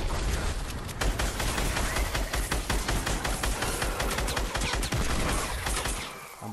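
Dense, continuous automatic gunfire from a Fortnite Ice Storm duos match, rapid shots crowding together loudly with explosive bursts, no talking, then cutting off near the end.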